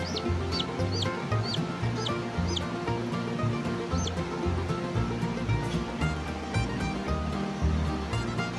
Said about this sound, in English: we have a healthy, happy little baby chick.